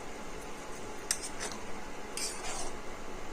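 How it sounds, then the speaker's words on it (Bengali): Egg tadka stirred in a pan just after the lid comes off, with a couple of quick metallic spoon scrapes over a steady low background hiss, faint and close, with no talking. "তড়কাটাকে একটু নেড়ে নিচ্ছি।"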